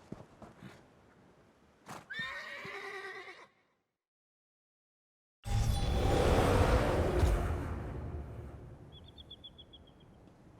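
Horses in The Elder Scrolls Online whinny sharply at close range, a loud neigh with trembling harmonics near the start, then a burst of busy movement and hoof noise with a faint high chirp toward the end.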